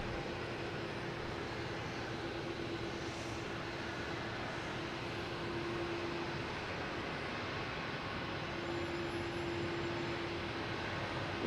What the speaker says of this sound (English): next is a JetBlue heading to Milwaukee in A220